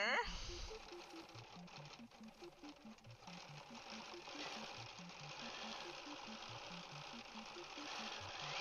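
A Bernina 790 Pro sewing machine quilts with a fast, steady mechanical stitching rattle that runs continuously and close.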